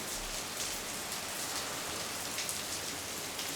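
Tropical rain in the Seychelles falls steadily on surfaces, a soft continuous hiss with scattered drop patters, fairly quiet and without any talking.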